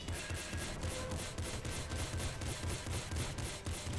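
A disc-firing weapon in the video game Nuclear Throne shoots in a rapid, regular stream of sharp, loud bursts over a dense, noisy game soundtrack.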